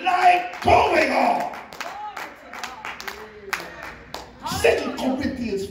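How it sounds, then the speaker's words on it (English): A church congregation claps during a sermon, with scattered, uneven hand claps mixed with a preacher's loud speaking and responsive voices, the clapping sporadic rather than a sustained round. "Clap your hands for Jesus."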